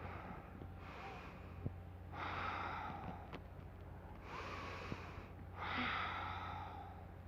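Slow deep breathing during a relaxing yoga flow class: two full cycles of soft airy inhales and longer exhales, close and quiet in a still room, no talk.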